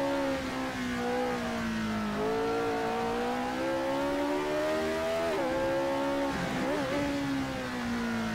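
A McLaren M23 Formula One car in Assetto Corsa, its engine droning loud and close, pitch climbing through the gears, with quick blips and a sharp drop as it downshifts.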